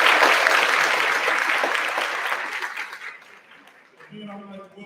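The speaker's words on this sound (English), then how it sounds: "Let's clap for all of them." Graduation audience at a high school ceremony claps for community partners and staff, a loud burst of many hands that fades away, followed by a voice starting to talk.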